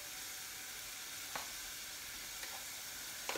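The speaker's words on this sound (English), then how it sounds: "So, mushroom cooking down lovely." Sliced mushrooms sizzle steadily as they cook down in a hot pan, a soft continuous frying hiss with a few faint ticks and pops, with no talking.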